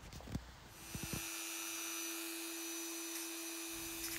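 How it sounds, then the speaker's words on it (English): Dremel rotary tool grinding a plastic volt meter light, a steady high-pitched whine that holds for several seconds after a few short taps and clicks at the start. "It's really important to hold the Dremel square, and also don't move too fast, gentle motions backwards and forwards, like a dentist drilling a tooth."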